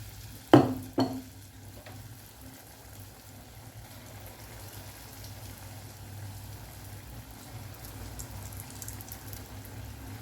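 Rice bonda batter frying in hot oil, a couple of sharp splashes and clinks at the start, then a steady soft sizzling bubble that carries on quietly to the end.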